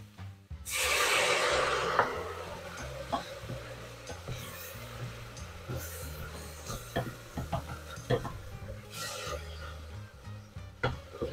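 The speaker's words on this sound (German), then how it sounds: "Jetzt gehen wir ein bisschen hoch mit der Temperatur, um ein paar Röststoffe zu erzielen." Browned meat in a hot pan is deglazed with wine, giving a sudden loud hiss that fades into softer sizzling, with scattered scraping and ticking utensil sounds nearby.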